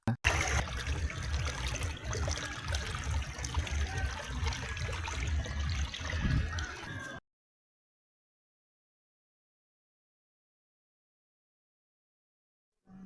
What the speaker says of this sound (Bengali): এই জলের শব্দটা স্পষ্ট শুনতে পেয়েছো তো এটা একটা ছোট্ট ওয়াটার ফলস ছিল